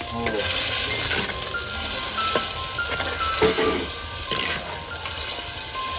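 Chicken curry tempering sizzling in a pan, a loud continuous hiss with scattered crackles and occasional stirring clatter, heard up close.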